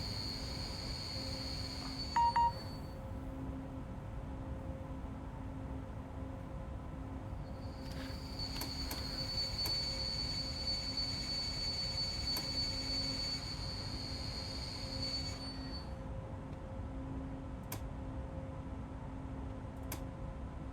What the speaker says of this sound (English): With the brake pipe at 0 and still the train is rolling backwards.